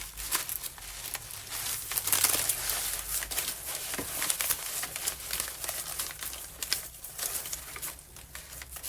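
A stack of coffee-dyed copy paper is handled close by, giving soft crinkles, rustles and papery taps that come in irregular bursts over a quiet background.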